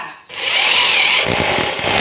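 A power drill bores into a concrete wall while a wall-mounted water filter is being installed, a loud close whine starting abruptly after a brief quiet moment and grinding on steadily.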